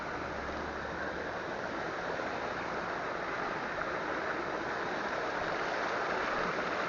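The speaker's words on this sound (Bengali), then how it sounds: "ছোটখাটো ঝর্ণা আর কি" A small roadside waterfall rushes steadily, a dense, unbroken wash of falling water close by, loud and even throughout with no voices.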